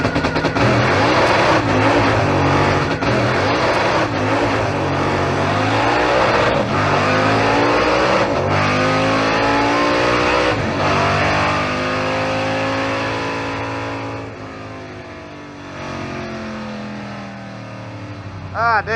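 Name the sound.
1955 Chevy drag car launching down the strip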